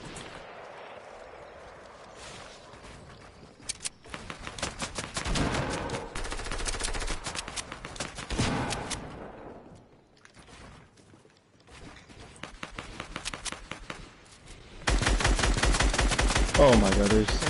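Video game gunfire comes in rapid automatic bursts with pauses between them, building to a loud, sustained volley at the end.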